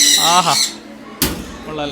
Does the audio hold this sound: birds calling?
yes